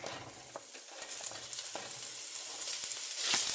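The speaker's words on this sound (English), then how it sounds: "Here we're going to put our meat in to start browning it." Meat sizzles as it browns in olive oil in a hot pan for Irish stew, a close, continuous frying hiss with crackling pops that builds slightly louder toward the end, with no talking.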